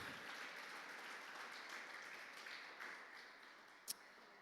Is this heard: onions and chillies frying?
no